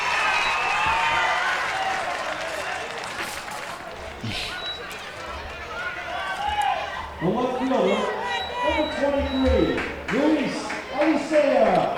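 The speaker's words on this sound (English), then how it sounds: "And the Perth Amboy crowd here going wild." A high school baseball crowd in Perth Amboy erupts into loud, sustained cheering and applause after a run scores, with shouts and whoops in the mix, while voices carry over the noise throughout.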